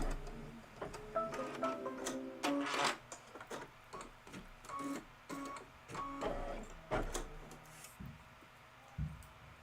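An embroidery machine stitches eyes with black thread for a Kimberbell Cup of Cheer design. It gives quiet, rapid mechanical ticking and clattering in uneven bursts, with a soft thump near the end.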